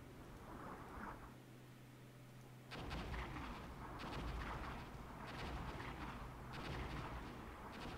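Artillery fires in the war game Armored Brigade: after quiet, heavy rumbling booms and crackling impacts roll in and continue densely, sounding distant and sustained.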